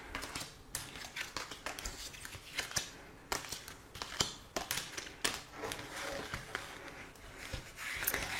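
Tarot cards shuffled and drawn for a reading: a continuous close run of papery riffling, flicks and sharp taps, busy and fairly loud throughout with no pauses.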